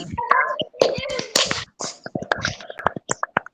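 Scattered hand claps, sharp and close, mixed with faint whispery voices, growing into a quick irregular series toward the end.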